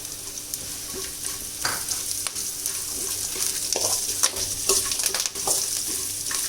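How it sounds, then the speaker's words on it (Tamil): Curry leaves fry in hot oil while making Pollachi-style masala puffed rice, giving close, sharp crackles and pops over a steady sizzle, with irregular bursts of spitting and no talk. "கருவேப்பிலை போட்டு டப்பு டப்புன்னு சவுண்டு நல்லா இருக்குது"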